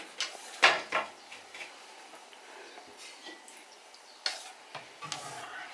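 Boiled chicken is scooped out of a pot with a few sharp clinks and scrapes, then soft wet stirring and sloshing, close and fairly quiet, with scattered knocks of a utensil against the pot.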